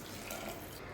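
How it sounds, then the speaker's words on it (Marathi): Hot water poured into freshly ground masala with coriander for a black crab curry, a steady watery splashing and trickling that holds close and fairly loud through the whole second. "इथे मी पाणी जसं गरम होईल तसं त्याच्यामध्ये टाकलेलं आहे"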